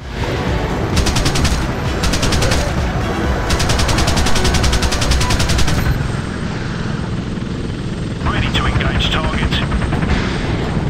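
Rapid machine-gun bursts rattle from an attack helicopter in the Apache Air Assault game on PS3, several stuttering runs over a steady rotor drone, with someone talking at times.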